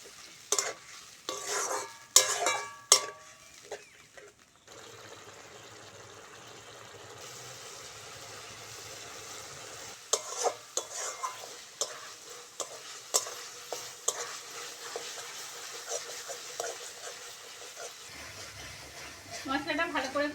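Spice paste stir-fried in a pan for a spicy aubergine dish, with a sizzling hiss and scattered scraping and clinking of a spoon against the pan, alternating with quieter stretches.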